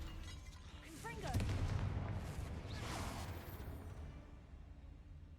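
A Confringo blasting spell goes off in a Harry Potter video game: one sudden booming blast near the start that rumbles on under steady game noise and faint voice-like sounds.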